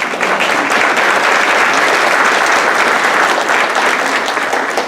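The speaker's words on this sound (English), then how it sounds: "Please give a round of applause as this is a labor." A large audience at a university gala ceremony gives a sustained round of applause, dense and steady clapping filling the room evenly from start to finish with no talking over it.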